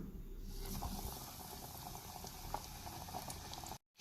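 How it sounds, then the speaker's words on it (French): Soft, steady sizzling and bubbling of oil heating in a saucepan, continuous and fairly quiet, cutting out briefly near the end. "je vais faire chauffer de l'huile dans une casserole"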